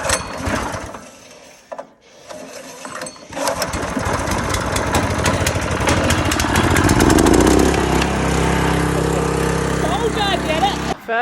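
A small petrol engine on a country farm is cranked with a few mechanical clanks and pulls, then catches and settles into a loud, steady running drone, close by.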